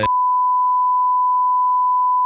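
A censorship bleep: one loud, steady pure tone held for about two seconds, cutting in abruptly after a brief burst of sound and stopping sharply at the end.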